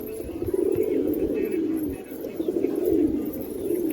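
Pigeons coo steadily in a low, throaty rhythm while pecking at crumbs of roti, the soft repeated calls close by and continuous.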